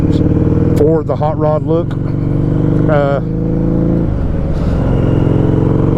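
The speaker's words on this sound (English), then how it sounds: "Fuel injected, this is the first, not the first fuel injected bike I've ever ridden. Man, this thing's throaty." A fuel-injected motorcycle engine rumbles with a deep, throaty steady drone, close and loud, while a rider talks over it.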